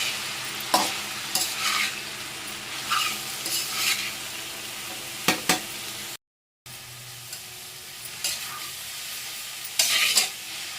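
Chopped gurugaku greens stirred in a sizzling pan, a close rhythm of scraping spoon strokes over a steady frying hiss, broken by a brief silent gap.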